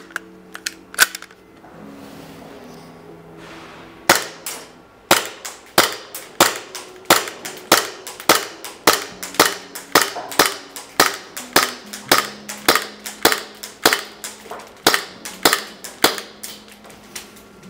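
XG8 CSI Poseidon airsoft replica firing single semi-automatic shots at a target: a long series of sharp, loud, close snapping cracks at a fairly regular, quick pace, after a few handling clicks.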